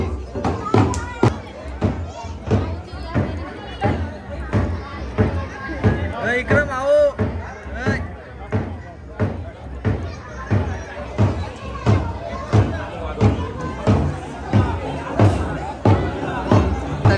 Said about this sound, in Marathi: बघू शकता भरपूर असे पब्लिक जमलेले.